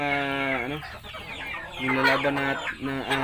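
Pawakan fighting chickens cluck and crow nearby, with several drawn-out harmonic calls and shorter clucks overlapping in a continuous flock chorus.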